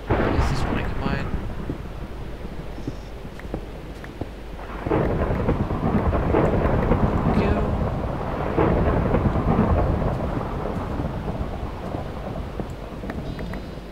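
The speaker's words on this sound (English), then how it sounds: "What's the thunder going on?" Rumbling thunder and steady rain of a Minecraft thunderstorm, a continuous dense roar with a heavier rolling surge of thunder midway, while a voice talks faintly over it.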